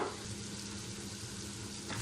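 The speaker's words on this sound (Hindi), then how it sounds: "अब इसको टमाटर गलने तक फ्राई करेंगे।" Tomatoes fry in a pan for a red kidney bean curry, giving a soft, steady sizzle that runs unbroken and fairly quiet throughout.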